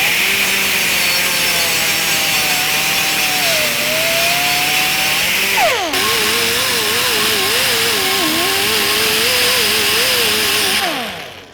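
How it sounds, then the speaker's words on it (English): A power sander works down a weld on a steel car grille shell, a loud continuous whining grind whose pitch wavers and dips as pressure changes, then cuts off at the end. "I'm going to sand the weld down flush in preparation for doing my hammer and dolly work."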